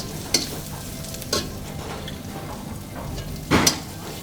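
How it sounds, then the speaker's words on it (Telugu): Cashew nuts frying in a pan at a restaurant kitchen serving bagara rice and prawns, a steady sizzle close by punctuated by a few sharp scraping tosses of a ladle. "జీడిపప్పులు టాస్."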